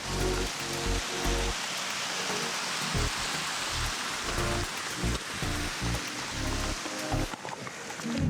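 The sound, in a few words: rain falling on a mountain trail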